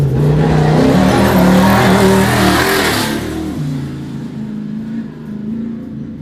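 A stock race truck roars past on a dirt desert track at the High Desert 100 in Powell, Wyoming; a loud, close engine rasp with tire noise peaks, then drops in pitch and fades as it moves away.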